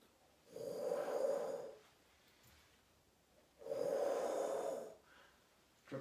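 A QiGong spleen healing sound performed as two drawn-out voiced exhalations, each a soft, breathy hum about a second and a half long with a quiet gap between, close and alone without speech.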